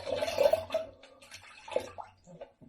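Shaving razor rinsed under running water at a sink, short close splashing and gurgling bursts that fade into a few scattered drips and taps.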